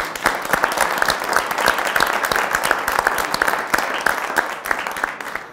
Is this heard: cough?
no